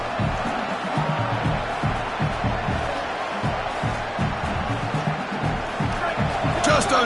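Home crowd roaring steadily at a USC vs LSU college football game, a dense continuous wash of cheering from a large stadium audience that swells slightly near the end.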